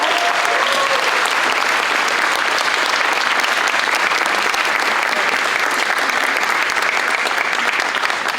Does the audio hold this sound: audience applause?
yes